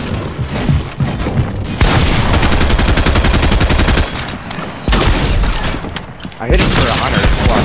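Rapid gunfire rattles almost without pause through a video game squad match, with loud bursts of shooting and louder sustained stretches, and players talk over the top.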